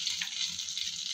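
Chicken pieces fry in oil in a kadai, giving a steady, close hissing sizzle throughout with no talk.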